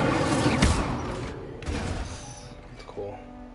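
Incendio fire spell cast in Hogwarts Legacy, a sharp whooshing burst followed by a second flaring rush and a smaller hit, heard alongside game effects and a player speaking.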